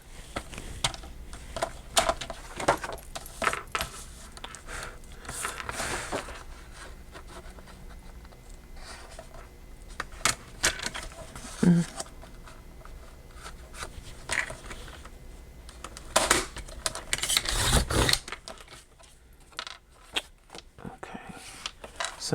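Paper being trimmed for a pocket-size traveler's notebook insert, with intermittent scraping, rubbing and rasping cuts in irregular bursts, close and fairly quiet, separated by softer handling noise.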